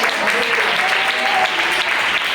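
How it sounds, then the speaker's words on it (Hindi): A church congregation at a revival meeting claps loudly and continuously, a dense wash of hands close and steady for a couple of seconds, with voices mixed faintly into the crowd noise. "ताली बजाओ प्रभु की महिमा"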